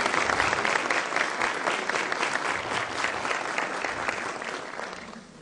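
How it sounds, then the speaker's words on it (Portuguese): An audience applauds a guest lecturer at a talk, steady dense clapping sustained for several seconds before tapering off slightly at the end. "peço uma salva de palmas"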